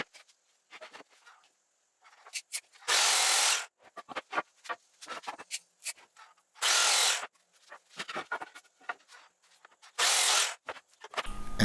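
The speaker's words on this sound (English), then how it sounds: "I'm going to start by cutting these boards to their rough length" Power saw cutting wooden boards to rough length for a charcuterie board, three loud bursts of cutting separated by clunks and handling of the boards, close and without talk.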